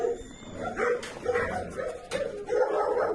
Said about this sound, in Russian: какой потрепанный пес